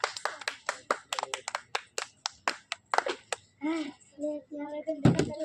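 Children playing a vegetable-picking challenge game clap their hands in a quick, uneven run of sharp, close claps, then break off as young voices call out and one final loud clap lands.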